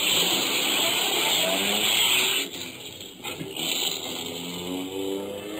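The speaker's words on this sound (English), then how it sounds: "I got into my car and drove away," A car drives away as an old radio drama sound effect. A loud engine hum holds steady, then eases and recedes into a quieter, wavering drone, with no talk over it.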